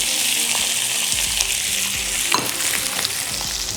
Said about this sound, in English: Then we get this in a smoking hot cast iron pan. Oh yeah, that's the sound we like to hear.